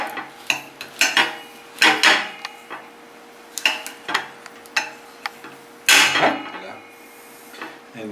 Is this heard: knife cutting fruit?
yes